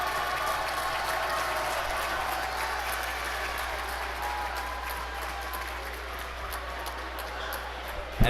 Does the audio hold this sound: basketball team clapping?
yes